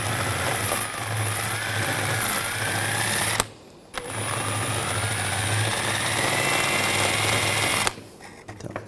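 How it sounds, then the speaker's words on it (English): A wire brush scrubs corrosion off the brake caliper pins of a 2007-2013 BMW 328i with a steady, close whirring abrasion that cuts out briefly, resumes and then stops. "If there's a little bit of corrosion on the pins or any type of debris, you want to use a wire brush on those."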